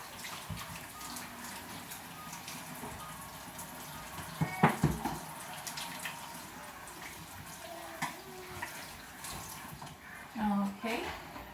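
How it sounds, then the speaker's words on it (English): Hands being washed under a running kitchen tap while fried chicken is prepared: steady, moderate water flow with splashes and rubbing throughout, and a voice speaking over it. "Now I'm going to wash my hands again."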